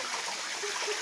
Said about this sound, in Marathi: त्या पिकांचं पाणी इथं या बोगद्यात पडत आहे.